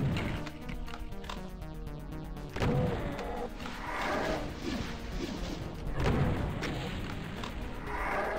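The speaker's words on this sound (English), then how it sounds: "Stop with the chain gun." Chain gun fire in the Doom wad Plutonia 2, a dense, steady stream of rapid shots with explosions and game action layered throughout, no talking.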